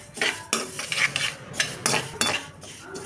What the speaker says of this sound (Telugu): ఇట్లా సన్న మీద డ్రై రోస్ట్ చూసుకోవాలి